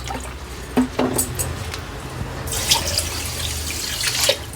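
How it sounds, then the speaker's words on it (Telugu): Water pours and splashes from a cup onto sugar in a container to make syrup, a steady running stream with a few drips and faint clinks, close by. "ఈ కప్పుతోని ఒక కప్పు వాటర్ వేసినానండి నేను"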